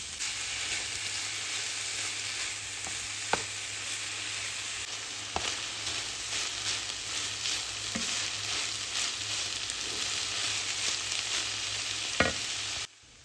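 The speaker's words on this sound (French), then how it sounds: "Ajoutez 300 g de bœuf haché et cuire pendant environ 12 à 15 minutes à feu doux" Ground beef sizzles steadily in a pan over low heat, a soft constant frying hiss broken by a few brief clicks of stirring, with no talking.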